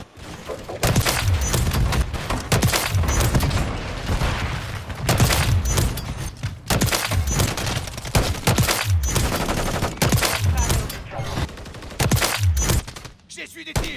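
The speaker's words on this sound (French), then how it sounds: "J'essuie des tirs." Dense automatic and single gunfire from a Modern Warfare 3 match, a nearly continuous loud barrage of shots and bursts with brief pauses, close and harsh throughout.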